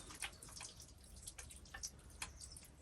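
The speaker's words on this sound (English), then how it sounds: "just give it a rinse through with water, quite a lot of water" Water rinsing and trickling through the soil of a freshly repotted hazelnut bonsai, with soft splashes and drips pattering irregularly at a fairly quiet level, no voices.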